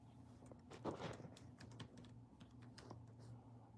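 Keys tapped on a computer keyboard in a short, irregular burst of clicks, fairly faint over a steady low hum in the room.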